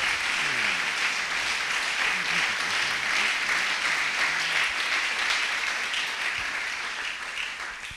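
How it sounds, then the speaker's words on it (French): Church congregation applauding and acclaiming the king of glory, a dense, steady wash of clapping that fills the whole stretch and eases off slightly at the end. "Acclamons le roi de gloire."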